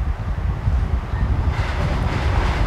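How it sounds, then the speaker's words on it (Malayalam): A Vande Bharat train rumbles past nearby with a heavy low roar and rattle that shifts slightly midway, with no voices. "train train train"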